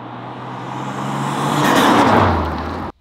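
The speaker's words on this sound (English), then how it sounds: "it sounds really sick when he's shifting gears and everything" A car engine revs up loudly and climbs in pitch, drops as a gear changes, then cuts off abruptly.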